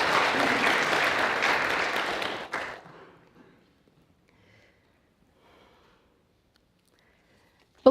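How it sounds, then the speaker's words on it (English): Applause from an audience at a community organizing gathering, a dense wash of clapping that holds strong for about two and a half seconds, then thins and dies away into near silence. "Let's give a round of applause for Caleb."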